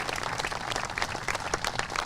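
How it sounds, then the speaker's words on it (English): Crowd applause at a Support Our Troops rally, brisk dense clapping from many hands, steady and moderately close with no voices over it. "So I'd like to ask for a round of applause for our great councilman, our council president, Charlie Kenny."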